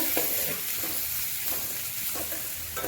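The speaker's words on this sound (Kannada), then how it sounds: "ನೋಡಿರಿ ಎಲ್ಲ ಹಿಂಗೆ ಫ್ರೈ ಮಾಡ್ಕೊಬೇಕ್ರಿ" Onions fry in a pan with turmeric powder and salt for a North Karnataka girmit snack, giving a steady close sizzle with soft stirring scrapes over it and no talking.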